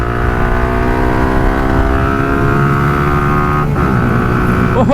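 A Suzuki Gixxer motorcycle fitted with a racing CDI accelerates hard in third gear on an open road, its engine drone loud and close with steady rising harmonics before a brief shift near the end.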